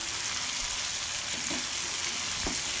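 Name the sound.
stirring fish kaliya spices with yogurt and cashew paste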